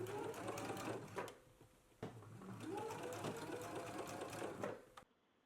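A sewing machine stitches shoulder seams in garment fabric, running in a fast steady whir for about a second, pausing briefly, then running again for several seconds before stopping abruptly.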